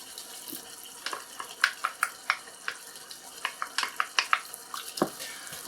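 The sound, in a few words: stirring salsa into lasagna filling in a pan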